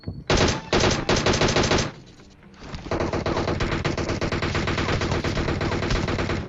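Rapid automatic gunfire in PUBG at Pochinki, loud sustained bursts of fast shots with a short pause near the two-second mark before a long continuous volley, no talking.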